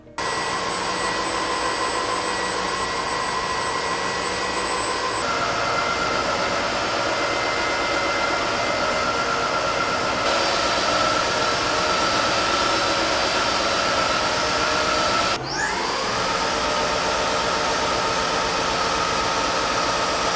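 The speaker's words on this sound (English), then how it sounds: "Here's what it sounds like in each mode." Roborock Dyad Pro Combo cordless wet-dry stick vacuum running continuously and loudly, its high motor whine stepping up in pitch as it switches through several power modes, with no talk.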